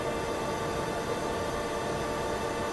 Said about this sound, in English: Really hear those flaps closing.